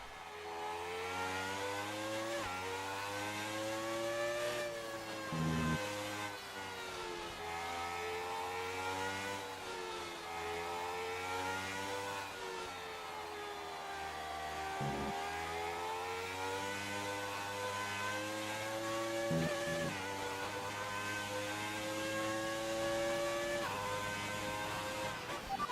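Classic race car engine in a racing video game on a fast lap, a continuous loud whine that rises and falls with repeated upshifts and brief dips through corners, heard alone without talk.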